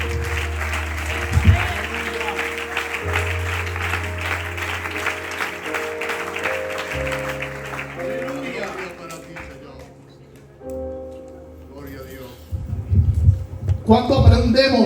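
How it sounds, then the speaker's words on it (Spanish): A church congregation applauds during a Spanish-language sermon, with sustained applause rising and falling over steady low music tones and voices for about fifteen seconds. "Dan un fuerte aplauso al Señor."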